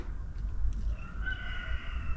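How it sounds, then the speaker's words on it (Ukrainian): A rooster crows at a distance, a drawn-out wavering call rising over a low rumbling outdoor background. "Півні, півні співають."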